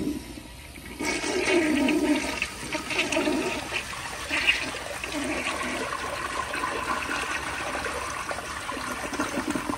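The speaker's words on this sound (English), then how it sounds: "Here's another flush." A 1972 Kilgore Argus toilet flushing on gravity-fed water pressure, a sudden rushing whoosh that swells, then settles into steady close refill trickling and running water.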